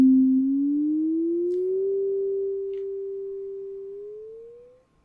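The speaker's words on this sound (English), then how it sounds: "Now we hear the notes being bent between the control calls." A single pure synth tone glides smoothly upward in pitch, holds steady, then slides up again before cutting off.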